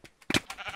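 A single short sheep bleat in the video game Sheep Quest, a quick nasal cry that sits close and clear amid a few faint clicks.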